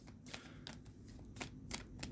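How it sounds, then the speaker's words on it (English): Tarot cards are shuffled close up in soft, quick riffling bursts, several crisp flutters spaced through the short, quiet stretch. "As we shuffle up the cards and pick you three."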